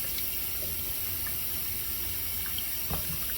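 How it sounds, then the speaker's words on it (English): Steady running tap water flows as hands are washed at a kitchen sink while baking applesauce bread, a constant soft hiss with faint splashes and clinks, fairly quiet and heard alone. "I'm gonna wash them again since I used egg."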